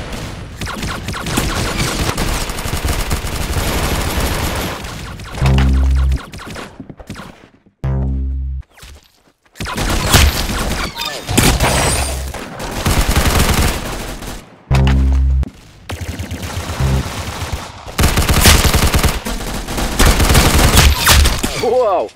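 Rapid automatic gunfire in the Roblox shooter Arsenal, loud sustained bursts of shots broken by short pauses and a few heavy booming hits, with brief moments of near silence between volleys.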